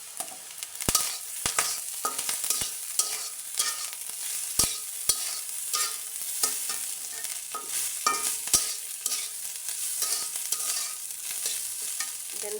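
Cooked rice frying in a pan with soy sauce and vinegar, giving a steady close sizzle broken by irregular spatula scrapes and sharp taps against the pan, with no voices.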